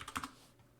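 A few quick, soft keystrokes on a computer keyboard, faint and close, lasting under a second with no talk.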